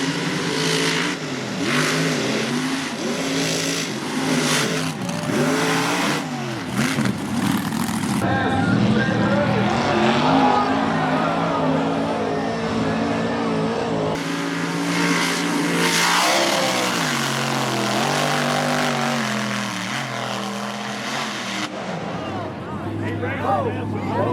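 Race trucks roar and rev at Virginia Motor Speedway on a muddy track, engines loud and close as they accelerate past, with a commentator talking excitedly over the noise throughout.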